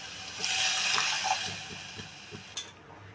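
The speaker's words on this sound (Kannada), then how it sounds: "ಇವಾಗ ನಾನು ನೀರು ಹಾಕ್ತಾಯಿದ್ದೀನಿ" Water is poured into a pot of boiled, softened tomatoes while making North Karnataka palak kara kadabu, a steady splashing hiss for about two seconds that tapers off, with no talking.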